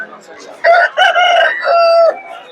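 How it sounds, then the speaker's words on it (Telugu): A rooster crows loudly and close, a drawn-out multi-part call, with softer hen clucks around it. "కోళ్ళు కూడా ఉన్నాయి"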